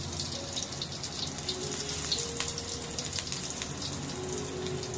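Fish fries in hot oil for a Hong Kong-style soup, giving a steady, fairly quiet sizzle with scattered small crackles and pops throughout.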